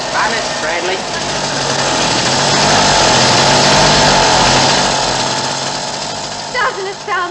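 Someone's motorbike engine runs in a loud, steady buzzing drone that swells and then eases off, with brief voices heard near the start and end.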